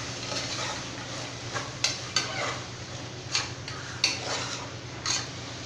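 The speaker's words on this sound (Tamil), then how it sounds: "இப்போ இது எல்லாமே சேர்த்துட்டு நல்லா வந்து மிக்ஸ் பண்ணிக்கலாம்" Rajma and green peas stirred together in a pan for biryani, with a low sizzle under irregular spoon scrapes and light metallic clinks against the pan, fairly quiet and with no one talking.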